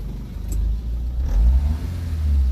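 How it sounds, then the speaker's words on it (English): A car engine idles, then revs up with a rising roar that rings out loud and close, dips briefly and climbs again. "Let's see what happens when you rev it up."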